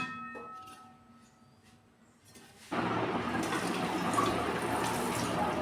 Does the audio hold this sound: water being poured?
yes